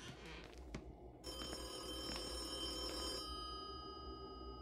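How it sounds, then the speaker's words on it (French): A telephone rings from a nearby room in the dark Greenwood Hotel horror game, a sustained bright bell trill lasting about two seconds, fairly clear over a low ambient hum. "Le téléphone sonne de cette pièce-là."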